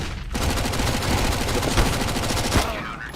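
Rapid bursts of gunfire in a CS:GO Wingman match ring out in quick succession, loud and dense for about three seconds, with game sounds layered over one another and no talking.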